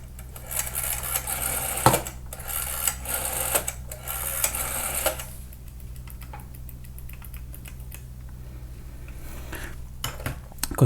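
Keys on a retro phone are pressed to dial a number, giving a string of sharp clicks and taps over a steady electrical hum, with a dense busy stretch first and sparser presses after.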